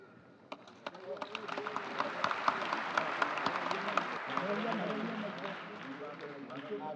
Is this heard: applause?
yes